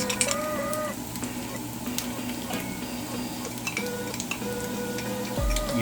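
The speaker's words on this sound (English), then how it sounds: "And give this a bit of a mix" Dollarama food for a $10 meal challenge is stirred and mixed in a pan, with a soft sizzle running underneath steady scraping and clinking from the utensil.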